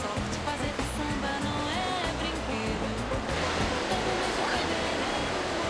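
Ocean surf rolls onto Gonzaguinha Beach in Sao Vicente, Brazil, a continuous washing roar of breaking waves with a low rumble throughout.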